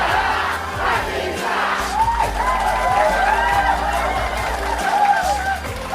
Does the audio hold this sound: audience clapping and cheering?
yes